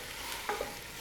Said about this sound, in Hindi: सॉसेज डालने के बाद हम इसको अच्छी तरह से मिक्स कर लेंगे